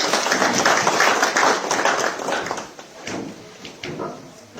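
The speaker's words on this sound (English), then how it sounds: "Another round of applause for Mr." Audience applause at a tobacco conference at Rainbow Towers in Harare fills the hall with a dense, sustained wash of clapping that fades slightly toward the end.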